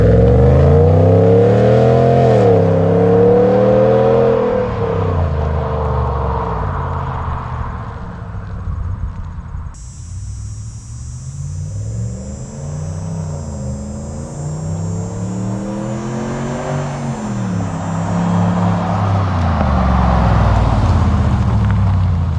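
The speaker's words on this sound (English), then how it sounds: "that's a straight pipe Dodge Ram for you" A Dodge Ram 1500 pickup with a straight pipe exhaust rumbles loudly past, its deep engine note rising and falling through repeated revs during drive-bys, with a brief high whine in the middle; no speech.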